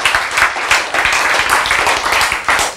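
A live audience bursts into steady applause, many hands clapping loudly and continuously with a faint voice underneath.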